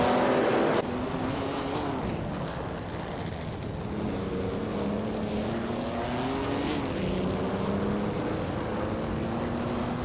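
Vintage racing cars in a video game led by a 1938 Maserati 8 CTF at Cadwell Park GP, engines droning steadily and loud, pitch rising and falling through gear changes after a brief louder burst at the start.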